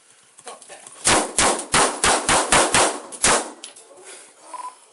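Eight rapid, loud gunshots ring out in about two and a half seconds during a police standoff with an armed hostage-taker, a tight burst of sharp cracks with brief echoes, followed by quieter background sound.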